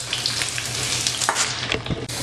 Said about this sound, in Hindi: जो मैंने प्याज काटे थे, वो लाइट ब्राउन करना है इसे हमें।